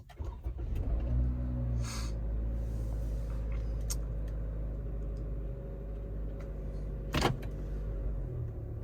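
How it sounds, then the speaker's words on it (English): A 2023 Toyota RAV4 Limited starts up: a brief burst as the engine catches, then a steady low idle hum that continues to the end, with a sharp click partway through. "I'm actually going to start up the vehicle just for a second here."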